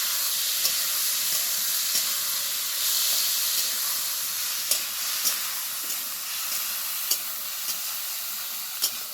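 Snails (gugli) and potato pieces fry in a pan for a Bengali spicy curry, giving a steady bright sizzle and hiss with occasional soft clicks as they are stirred; no voices.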